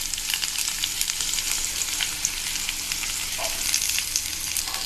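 Garlic and curry leaves frying in hot oil for tomato pachadi, a dense, bright, constant sizzle with light stirring clatter throughout, no voices.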